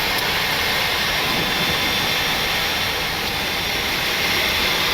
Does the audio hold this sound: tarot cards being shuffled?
no